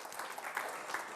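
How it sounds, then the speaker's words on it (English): Audience applause at a Rotary club event, a brief wash of many hands clapping, faint and distant-sounding, steady for about a second. "Let's have a big round of applause for them."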